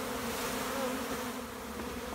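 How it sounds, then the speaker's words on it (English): A swarm of bees catching around a queen bee makes a dense continuous buzz, steady and close, with no talk. "now that we have so many bees around, it's hard for me to see her"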